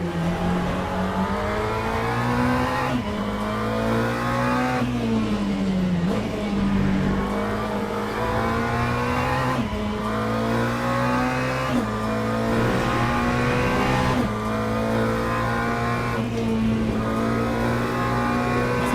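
GT3 race car in the sim racing game Le Mans Ultimate, its engine droning loud and steady throughout with repeated gear-change dips and revs climbing between shifts, alone without talk.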